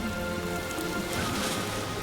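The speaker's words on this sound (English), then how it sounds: "It's not normal rain." Horizontal wind-driven rain lashing a remote island dig site, a dense steady hiss of drops beating on surfaces with gusty wind noise underneath, constant and close.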